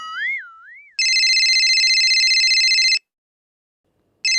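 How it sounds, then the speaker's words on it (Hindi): A phone ringtone in a Hindi comedy sketch: a short warbling tone, then a loud, steady electronic ring for two seconds, a pause, and the ring starting again. "तन्नू का फोन"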